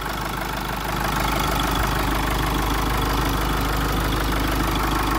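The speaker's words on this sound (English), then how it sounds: "So that's the engine." A London taxi, an LTI TX4 with a 2.8-litre Nissan turbodiesel and automatic gearbox, idles steadily close by, its low diesel rumble and faint knocking holding an even level throughout with no talk.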